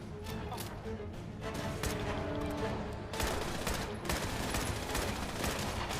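Gunfire in the post-apocalyptic video game Fallout 76, a steady barrage of shots and bursts near a house, rattling on throughout with dense, overlapping reports.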